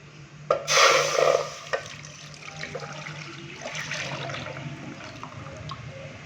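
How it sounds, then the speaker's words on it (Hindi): Full-fat milk, one litre, pours into a cooking pot for rabri, a broad splashing liquid rush up close that tapers into softer trickling and gurgling, with no talk. "तो पतीली के अंदर सबसे पहले हम 1 लीटर दूध डालेंगे।"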